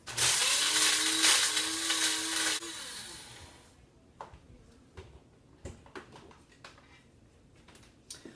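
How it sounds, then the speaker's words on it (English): An inexpensive electric coffee grinder whirs loudly with a high whine as it grinds dried jalapeno and Fresno peppers for about two and a half seconds, then stops, leaving quiet clicks and light rattling from handling. "any kind of an inexpensive coffee grinder works just fine"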